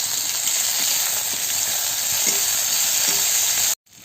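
Tomato and chili frying in oil in a pan with garlic and ginger for potato-prawn curry, a constant loud close sizzle with faint scrapes of stirring, cutting off abruptly near the end.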